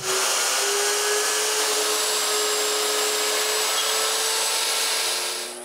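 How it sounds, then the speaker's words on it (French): Power drill boring dowel holes into walnut or oak pieces for a lamp, a steady continuous high whine with constant loudness running nearly the full length, tapering off at the very end. "percer des trous pour les goujons"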